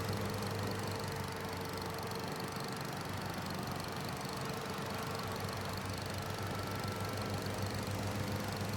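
A mower engine in Farming Simulator 25 drones continuously with a steady mid-pitched hum and faint knocking, loud and unbroken throughout with no voices.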